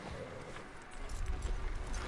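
Horse hooves in Red Dead Redemption 2, a soft clip-clop of slow steps near a hitching post, faint and close, rising slightly toward the end with no talk.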